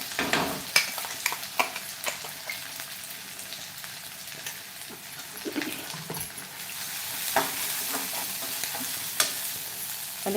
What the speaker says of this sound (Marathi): कढीपत्ता चांगला भाजल्याच्यानंतर आपण याच्यामध्ये जे आपण वाटण तयार केलं होतं ते घालूया